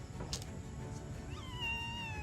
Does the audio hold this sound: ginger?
no